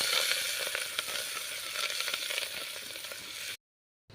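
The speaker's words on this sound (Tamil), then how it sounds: "ரெண்டு கொத்து கருவேப்பிலை வந்து உள்ளே சேர்த்துடுவோம் இப்போ வந்து ஒரு ரெண்டு நிமிஷம் இது வதங்கட்டும்" Curry leaves sauté with a steady, dense sizzle in an earthenware clay pot for a village-style Tamil fish curry, loud and continuous with light crackles, breaking off abruptly near the end.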